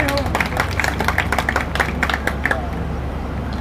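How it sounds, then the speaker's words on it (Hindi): An audience at a religious discourse claps in sustained, scattered applause, with voices mixed in underneath. "बहुत हुआ ताली बजाना"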